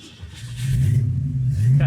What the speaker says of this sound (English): Got nice sounding exhaust.